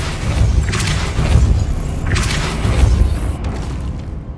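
Depulso spell effect in the video game Hogwarts Legacy, two heavy bursting blasts with crackling, shattering debris, loud and alone.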